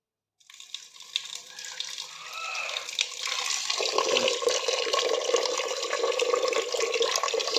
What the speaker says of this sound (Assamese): নাও পানী ডাইৰেক্ট দি দিছোঁ ওপৰৰ পৰা